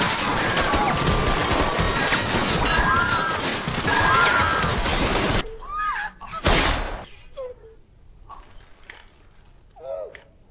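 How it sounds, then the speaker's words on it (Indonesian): A free-firing shooting scene in a film about refugees in a shipping container opens with a dense, loud barrage of gunfire, then breaks into scattered sharp individual shots and impacts. "Adegan menembak bebas pun terjadi."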